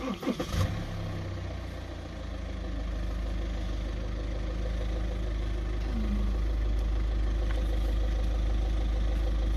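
A car pulling out of the neighbouring parking spot on a 0°C day beside a Swedish forest, with a steady low engine rumble that rises slightly and holds, heard from close by.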